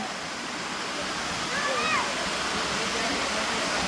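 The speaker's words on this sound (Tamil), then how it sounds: "டேம் அப்படியே தண்ணி வந்து சரிஞ்சு இங்கே போயிட்டுருக்கு" Water pours down from a dam near Yelagiri, a constant broad roar of falling and rushing water, with a faint bird call briefly audible over the steady wash.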